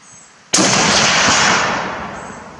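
A single loud, close rifle shot from an M1917 Eddystone: a sharp, explosive crack followed by a long, broad echoing tail that slowly fades over two seconds.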